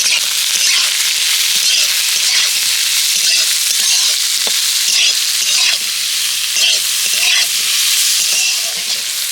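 Vegetables frying in a pan with salt and turmeric give a loud, steady sizzle close by, broken by repeated scraping stir strokes throughout.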